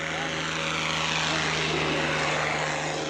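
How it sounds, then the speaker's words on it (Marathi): A small tractor engine runs at night with a constant, loud droning hum and steady low tones, unbroken for the whole stretch. "तिथं ट्रॅक्टर चालूच आहे"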